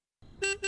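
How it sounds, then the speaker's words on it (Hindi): Two short car horn honks in quick succession, fairly loud and a little distant, with a faint low rumble before them. "देखो कोई बाहर हॉर्न बजा रहा है।"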